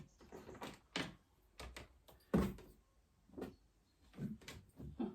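A household drawer is handled while putting away sweatpants, giving several soft, faint sliding and knocking thuds spaced irregularly, with one sharper bump near the middle.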